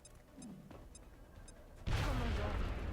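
Rapid gunfire in XCOM: Long War erupts suddenly after a quiet stretch of faint ticking, then continues as a loud, dense, sustained volley of shots.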